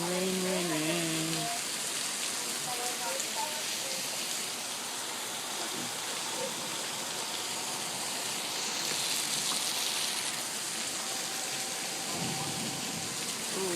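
Steady rain falls in a continuous broadband hiss, heard from a second-floor vantage, with a brief voice at the start and a faint low rumble late on.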